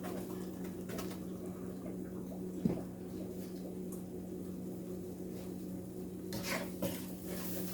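A spoon or spatula stirs flour into vegetables in a cooking pot for baked pasta with vegetables and smokies, giving soft, scattered scrapes and a few light clinks over a steady kitchen hum.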